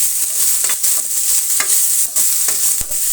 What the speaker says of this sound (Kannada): ಕಟ್ ಮಾಡ್ಕೊಂಡಿರುವಂಥ ಈರುಳ್ಳಿ ಚೆನ್ನಾಗಿ ಫ್ರೈ ಆಗಲಿ